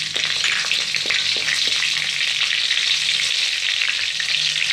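Onion and fenugreek paste fries in a pan with a loud, dense, steady sizzle, a few light utensil taps and scrapes surfacing early on, with no voices.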